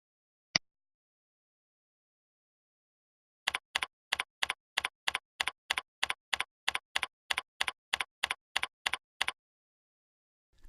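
Someone types a short string on a computer keyboard, a single click followed after a pause by a steady, even run of about twenty crisp keystrokes, close and clear in a quiet room.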